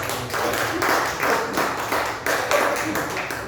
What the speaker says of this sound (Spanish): Denle un fuerte aplauso al Señor de la Gloria.